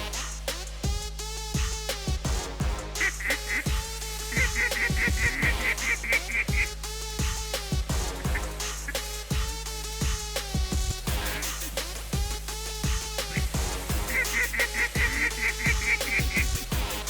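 A flock of wild geese honks continuously while flying in toward a waterfowl hunting spread, loud layered calls with a steady droning background throughout.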